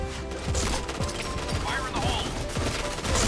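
Rapid automatic gunfire in an online first-person shooter, steady repeated shots throughout, with someone talking over the firing.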